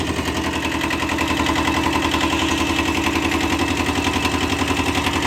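A car engine running steadily at idle just after being filled with semi-synthetic oil, a continuous even rattling hum held at a constant level throughout with no talking.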